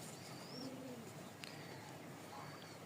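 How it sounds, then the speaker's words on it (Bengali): Crested pigeons with heavily feathered feet, one white-beaked and one dark-beaked, give a faint, soft coo or two. The coos sit under steady background hiss and thin, distant whistling bird calls. "ঝুটি মুজাওয়ালা এক জোড়া কবুতর আছে"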